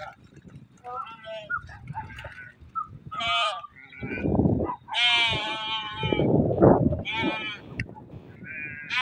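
Sheep bleat repeatedly while being herded into a kraal at a village home, several wavering calls near and loud, overlapping with people talking and moving about.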